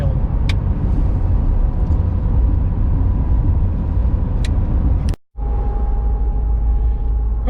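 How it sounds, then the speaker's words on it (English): A truck drives through pitch-black darkness at night, its engine giving a steady, loud, close rumble of road noise. The sound cuts out for a moment near the end, then returns along with a thin, steady whine. "Okay, I'm driving in the truck."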